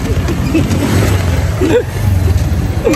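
A motorized tricycle rolls along during a ride in Davao, its engine holding a steady rumbling drone, with busy background chatter and street noise around it throughout.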